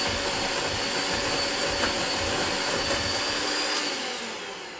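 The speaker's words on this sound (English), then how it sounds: "I'm just going to mix this up using my mixer" An electric hand mixer whirs steadily and loudly as it beats muffin batter with an egg, a continuous close motor hum with faint clinks against the bowl that eases off at the end.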